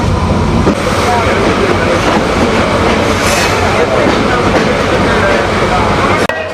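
Sagardari Express train running at 80 km/h, a loud steady rumble of wheels on rail with clattering rolling noise throughout, close and continuous, with a brief sharp knock near the end.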